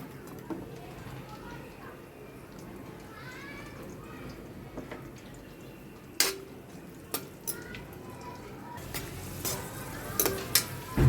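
Cashews and raisins fry quietly in a pan for ravva kesari, a soft steady sizzle broken by scattered spoon taps and clinks that grow sharper near the end.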